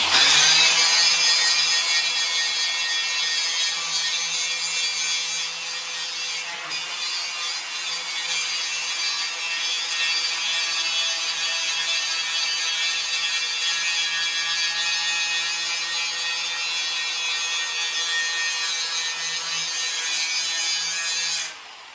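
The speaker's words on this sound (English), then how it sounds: "you're going to want to grind that off so it's easier to weld" An angle grinder grinds paint off painted metal before MIG welding, a steady, loud, high whine that runs continuously for about twenty seconds before cutting off at the end, with no talking.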